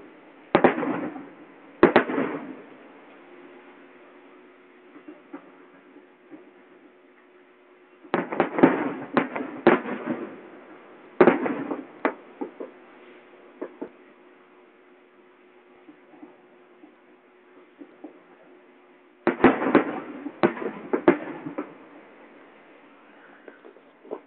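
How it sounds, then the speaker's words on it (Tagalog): Eid fireworks display in Saudi Arabia heard from a distance, with bursts of crackling pops and bangs arriving in separate clusters and quieter gaps between them. "now we are watching the Eid Mubarak free fireworks display"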